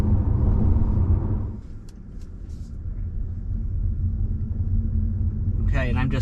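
A 2023 Kia Niro Hybrid crossover lightly accelerating on the road, heard from inside as a steady low rumble of road and drivetrain noise that dips briefly and swells again.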